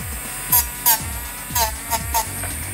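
An electric nail file drill with a sanding bit runs with a steady high whine, broken by about five short louder bursts as the bit presses on a nail, close and fairly quiet.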